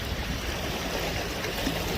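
Sea waves washing in on the seashore at Tower Isle, a steady close wash of water and surf without pause, with no voices.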